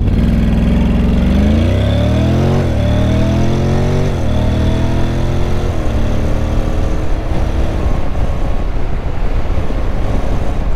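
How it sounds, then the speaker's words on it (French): A 2024 Honda X-ADV motor scooter revs up from a standstill in a 0-to-100 launch, its engine pitch climbing through several rising sweeps before settling into a steady loud drone. "on va se faire un petit départ arrêté, un petit 0 à 100"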